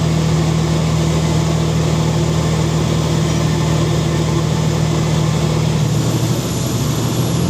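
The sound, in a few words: Cummins diesel engine running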